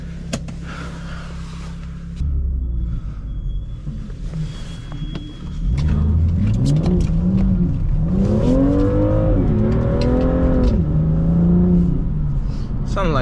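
A BMW M2 on a snowy road idles low, then revs hard as it pulls away, its engine note climbing and wavering through several gear-like swells and staying loud and close.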